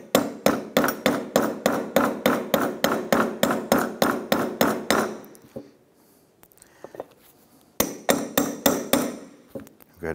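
Door hinge bushings on a 1993-1997 Ford Ranger are driven in with a hammer through a wood block: about twenty loud, evenly spaced taps, a short quiet pause with faint handling, then another quick run of taps.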